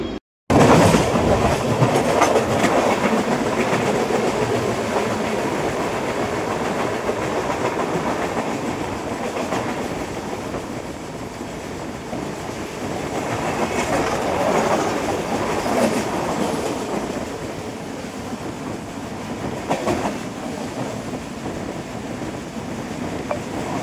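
A passenger train rolls along the tracks with a steady rumble and rhythmic clickety-clack of wheels, swelling and easing slightly as it runs.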